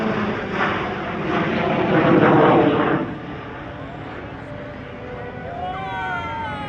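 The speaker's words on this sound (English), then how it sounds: "The Yak 110 was designed by Jeff Bourbon and Del Collar in the USA" A Yak 110 aerobatic aircraft, built from two Yak 55 fuselages with a J85 jet turbine between them, roars loudly past at an airshow, fading after a few seconds into a softer distant drone.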